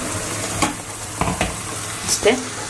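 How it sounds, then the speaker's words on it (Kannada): Beaten egg and onion frying in oil with mustard seeds, curry leaves and masala, sizzling loudly and close, with repeated scraping strokes of a spatula in the pan and no talk. "ಎಣ್ಣೆ ಹಾಕಿ ಸಾಸಿವೆ ಕರಿಬೇವು ಅದು ಹಾಕಿ ಮೊಟ್ಟೆ ಈರುಳ್ಳಿ ಹಾಕ್ಬಿಟ್ಟು ಫ್ರೈ ಮಾಡಿಬಿಟ್ಟು"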